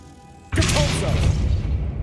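Depulso force spell from Hogwarts Legacy, cast in a tomb: a sudden loud whooshing thump bursts in about halfway after near quiet, then a dense rumbling wash carries on to the end.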